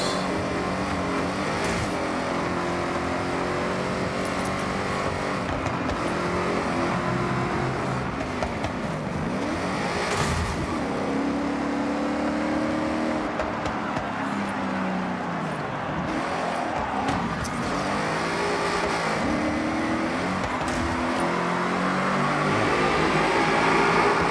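A racing car in the game Forza Horizon 6 accelerates hard, its engine roaring continuously and loud, with pitch sweeping up and down through gear shifts for the whole stretch, no talk heard.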